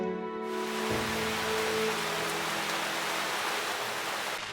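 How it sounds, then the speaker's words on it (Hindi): Heavy rain in a cartoon scene, rendered as a dense, steady hiss of falling water that swells in after a brief quiet start and holds evenly, with no voices. "बारिश बहुत तेज हो रही है।"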